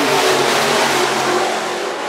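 Sport mod race cars at a county dirt raceway roar as they accelerate together for a main event start, a dense, loud, sustained engine wash heard close with no talk.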